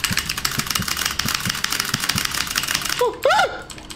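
Computer keys are typed in quick, close clicking bursts over background noise, then a short voice-like sound cuts in near the end.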